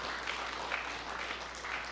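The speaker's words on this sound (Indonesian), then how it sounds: "berikan tepuk tangan yang mandiri yang buat Tuhan" Church congregation applauding during an Indonesian sermon, a steady, dense wash of clapping that holds for the whole moment at moderate, slightly distant level with no voices over it.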